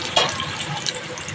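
Water poured into a pot of hilsa fish curry with taro, a short splashing gush that flares up at the start and then keeps running at a steady level with no one talking.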